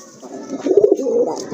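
Deep red pigeons kept for sale coo in a short, close, soft rolling phrase, alone with no talk.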